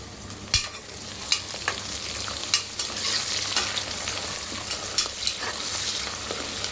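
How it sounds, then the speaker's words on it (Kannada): Fenugreek leaves frying in oil in a pan for plain kushka, a continuous sizzle broken by sharp scraping clicks of a spoon stirring at irregular intervals, close and fairly loud. "ಎಣ್ಣೆ ಜೊತೆ ಚೆನ್ನಾಗಿ ಅದು ಕೂಡ ಸ್ವಲ್ಪ ಫ್ರೈ ಆಗಲಿ."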